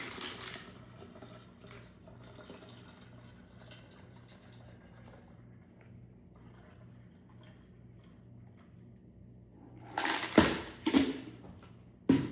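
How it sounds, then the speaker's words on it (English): A Thanksgiving cocktail batch for ten or more is strained through a fine mesh strainer, giving a soft, steady trickle of liquid with a low background hum, then a few louder splashing pours near the end. "I'm going to strain this out. Get a fine mesh strainer if you like."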